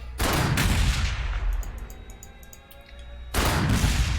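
Gunfire from infantry units shooting over walls in the Warhammer 40k Sanctus Reach video game, dense overlapping bursts in two loud volleys separated by a quieter gap with scattered distant shots.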